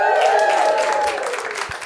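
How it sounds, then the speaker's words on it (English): Audience applause at a stand-up comedy show, a loud burst of clapping and crowd noise that starts strong and fades over under two seconds. "Please do not applaud."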